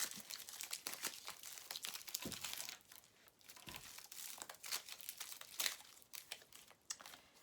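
Tarot cards being drawn and handled: soft, dense shuffling, sliding and crinkling of card stock, close but quiet, in an uneven, continuous flurry with no talking.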